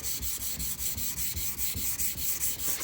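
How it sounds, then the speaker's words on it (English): Steady back-and-forth rasp of a sanding block working over primer on a car body panel, rhythmic strokes repeating about every third of a second, close and continuous with no voices. "So go ahead and just continue blocking it."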